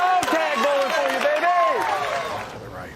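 Bowling crowd at the 2024 US Open roars and cheers after a double, with a man yelling excitedly over the steady crowd noise and commentators' voices mixed in.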